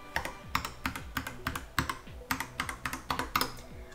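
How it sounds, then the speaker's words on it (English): Typing on a Skyloong GK75 mechanical keyboard produces crisp, close clacks in quick irregular bursts with brief pauses, each keystroke sharp and distinct, heard alone. "Like, you can hear how planted those key presses sound."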